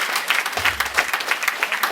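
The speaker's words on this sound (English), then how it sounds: "can I have a really round of applause for your Chancellor who made this possible?" An audience at a university memorandum-of-understanding signing ceremony claps, a dense burst of close, lively applause with many overlapping hand claps.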